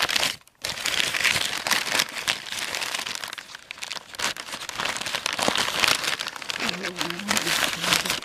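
Wrapping on a customized Barbie doll is torn off and unwrapped, a close, continuous crinkling and rustling of paper or plastic with sharp tearing bursts, running throughout, briefly broken by a short pause near the start.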